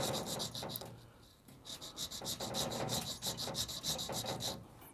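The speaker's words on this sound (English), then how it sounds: "trying to keep it straight with the sight, start to enlarge this groove into a half round" A file cutting a half-round notch into a CZ 75 pistol sight, rasping in a steady rhythm of short back-and-forth strokes, close and fairly quiet, with a brief pause partway through.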